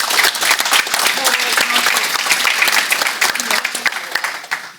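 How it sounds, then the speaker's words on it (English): Audience clapping at a mobile games ad monetization event, a dense, steady round of applause that holds for most of the stretch before tapering off, with some voices mixed into the crowd noise. "Clapping is fine"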